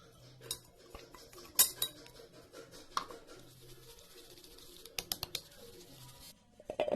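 Kitchen utensils clinking and scraping against metal vessels while batter is filtered, with scattered close taps, a quick run of clicks near the end, and light clatter between them, no talk.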